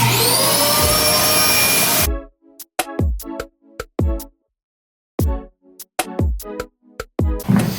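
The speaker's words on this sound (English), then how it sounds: "this is the perfect song to vacuum out gasoline to" A vacuum cleaner sucks gasoline out of a Jeep with a loud, steady roaring whine for about two seconds, then cuts off abruptly, leaving short bursts of music.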